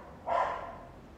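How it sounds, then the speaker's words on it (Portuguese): A single sharp dog bark rings out nearby in a daytime home setting, quick to hit and fading into a short reverberant tail, with no talking over it. "Vamos gravar com o cachorro latindo mesmo."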